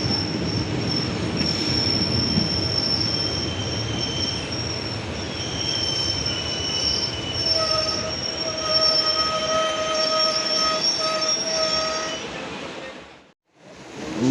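A Gunupur–Puri Express passenger train rolls past steadily, wheels squealing in high sustained tones over a loud continuous rumble for about thirteen seconds before a brief drop and resurgence.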